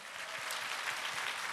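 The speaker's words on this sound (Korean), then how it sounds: "보통 이 정도가 박수가 나오더라고요" An audience at a church talk concert applauds in a steady, dense wash of clapping, moderately loud and without talk.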